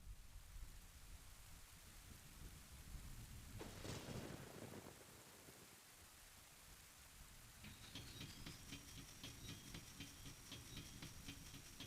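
Thunderstorm ambience from the video game Legend of Zelda Ocarina of Time 3D: a constant hiss of heavy rain with a sharp thunder crack near the start, then a rolling rumble and a brighter rain layer later, no voices.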